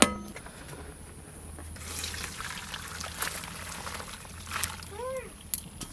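Boiled chow mein noodles are poured out with their cooking water, a rushing, splashing wash punctuated by a few metallic clangs of the pot, while a voice speaks over it.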